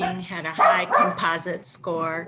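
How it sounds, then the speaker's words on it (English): Dogs bark in several quick, loud bursts in the same room, mixed in with a person speaking over them. "I apologize for my dogs."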